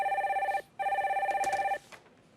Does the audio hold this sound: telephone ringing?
yes